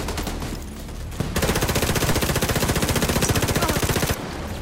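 Sustained automatic gunfire from The Division 2 co-op play, a rapid, even stream of loud shots lasting about three seconds over the game's background noise.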